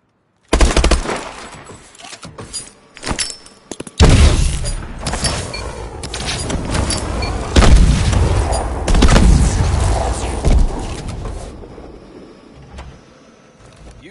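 Call of Duty Advanced Warfare grenade training: heavy booming blasts land close and loud, one after another, with rumbling debris and mechanical clatter between them and a long decaying roar after the biggest bursts.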